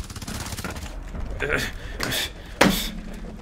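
Several sharp gunshot bursts crack out in Rainbow Six Siege, one loud close blast standing out, with a voice talking over the action.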